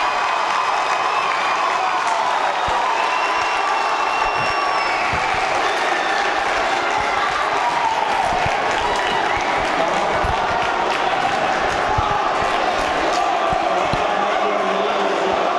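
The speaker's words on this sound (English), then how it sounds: "And listen to this crowd." Roaring crowd in a high school gym during a varsity boys basketball game, South Lyon against Pinckney, cheering steadily after a dunk, a loud sustained wash of voices with occasional sharp thuds.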